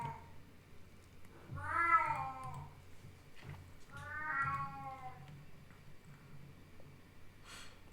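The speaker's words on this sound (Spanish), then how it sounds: "ya nos está saludando mi gata" A pet cat named Eduviges meows twice, two drawn-out cries a couple of seconds apart, close by and clear over a quiet room with faint background noise.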